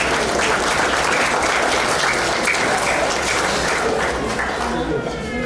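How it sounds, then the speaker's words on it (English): Sustained applause from a large audience, loud and steady throughout, with a few voices mixed into the clapping. "Another round of applause, ladies and gentlemen, for the guys introducing"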